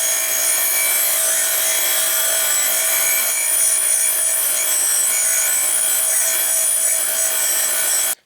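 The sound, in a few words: wire grinder removing decals from new exhaust pieces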